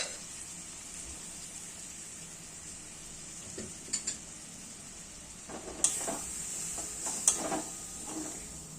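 Boiled, drained chickpeas being sautéed in a pan for restaurant-style Punjabi chole, giving a steady low sizzle with scraping stir strokes and a few sharper clinks toward the end.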